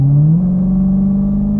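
A Super Stock muscle car accelerating, its engine droning loud and close in a steady, slightly rising tone with no talk over it.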